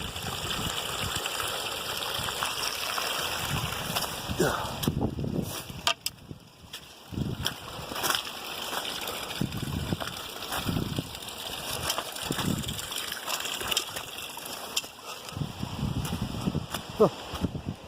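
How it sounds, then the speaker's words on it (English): Small one-foot trail waterfall on a mountain stream along a back-country trail on Mt. Whitney, a steady close rush of flowing water with wind buffeting and some speech mixed in. "Look, there's even a little trail waterfall."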